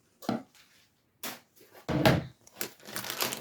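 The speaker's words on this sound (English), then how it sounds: "all you have to do is open the package carefully, not to cut the fabric." Plastic packaging around flat fabric pillow covers being opened by hand, giving several separate crinkling and rustling bursts, close and moderately loud, with brief pauses between them and a longer busy stretch of rustling at the end.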